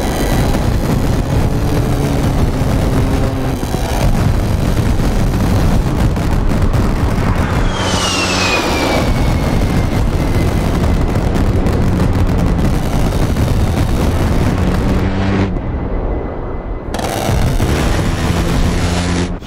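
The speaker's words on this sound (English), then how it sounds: "Boys are still strafing for fun." A-10 Warthog gun strafing runs in the flight combat game DCS, a loud dense roar of cannon fire and explosions rumbling continuously, with a descending jet whine midway and brief drops between bursts.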